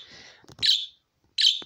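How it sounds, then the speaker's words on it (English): A pet bird chirps in a child's bedroom at home, giving two sharp, bright calls with a short pause between, close by and fairly loud, after a moment of low background talk. "there is a bird in here."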